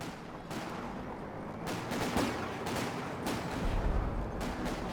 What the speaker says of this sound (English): We see a artillery barrage getting called in right on top of the AT gun.